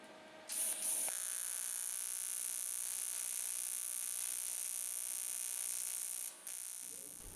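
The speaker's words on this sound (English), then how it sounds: "And now I'm just welding the top bracket onto it." Welding a top bracket onto a Honda NC750X countershaft seal guard produces a steady, close electric buzz with a high whine. It runs unbroken for about six seconds, then briefly drops and resumes before ending.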